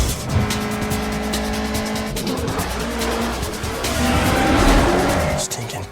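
Race cars from a Fast and Furious film roar past with engines revving and tires squealing, a loud continuous rush of motor noise and skids with music and voices mixed underneath.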